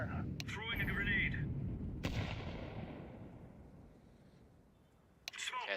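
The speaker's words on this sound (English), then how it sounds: "Throwing a grenade." Grenade thrown in Counter-Strike 2 gameplay, heard as a sharp transient burst followed by a long decaying rumble among other loud game effects, with a voice talking briefly at the start.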